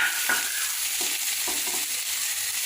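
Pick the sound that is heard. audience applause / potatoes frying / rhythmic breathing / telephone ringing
potatoes frying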